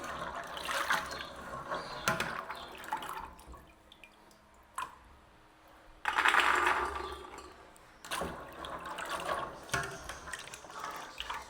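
Soaked chickpeas being washed in water in a pot, with intermittent sloshing and splashing bursts separated by quieter drips and pauses, close and fairly soft.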